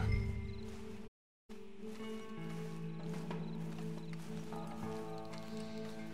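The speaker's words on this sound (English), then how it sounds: "Look at Jelly Bean being the giant of all the horses here." Steady clip-clop of horse hooves walking in the video game Red Dead over a sustained musical backdrop, broken by a brief moment of silence near the start.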